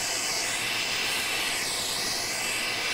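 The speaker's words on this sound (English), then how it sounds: "Now turning on my piezo burner." A piezo-lit gas burner flame heating a brass wheel and pin from a vintage German DRGM chiming clock for soldering, a steady close roaring hiss that runs unbroken throughout.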